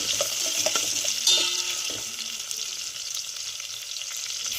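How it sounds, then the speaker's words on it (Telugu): Garlic, dry red chillies and onion fry in a pan for pappu charu with a steady, close hiss and sizzle. A few soft stirring scrapes sound against the pan. "మొత్తం మంచిగా కలిపేసి ఫ్రై చేసుకుందాం."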